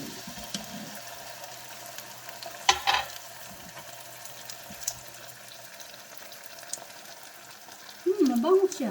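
Sardines frying in a pan give a faint, steady sizzle through most of the stretch, with a brief clatter and a louder burst near the end as someone speaks over the cooking.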